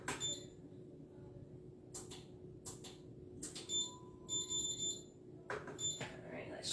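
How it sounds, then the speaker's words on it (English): An air fryer oven is set to 375 for preheating, giving several short electronic beeps at uneven intervals over a quiet kitchen hum, faint and close by. "let me set the air fryer oven up. I'm gonna put it at 375, so it's gonna preheat real quick."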